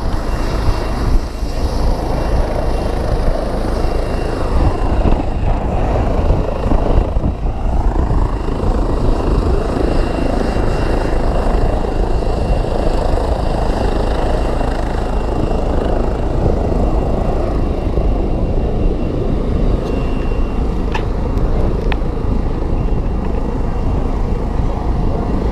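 An airplane at an airport produces a loud, continuous engine drone that holds steady and close for the whole stretch, with no pauses.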